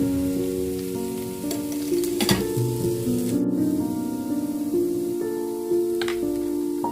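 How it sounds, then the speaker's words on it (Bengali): A steady sizzle of carrots, beans and onions frying in a pan, with a continuous hiss and occasional clinks of a utensil against the pan, background tones underneath. "এইগুলো ভাজা হতে হতে দেখুন"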